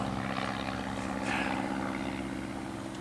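Small propeller airplane flying overhead near a small airport, a steady droning engine hum with a slight swell in the middle, moderately distant.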